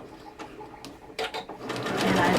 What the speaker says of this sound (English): So I'm just going to go ahead and I'm going to sew my dart.